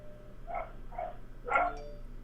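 Several dogs bark faintly in the distance, giving three short muffled barks over a low background hum, with the last bark a little louder.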